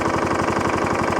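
Hayter 41 lawnmower petrol engine idling after repair, a close, loud, rapid even chugging that holds steady through the short stretch.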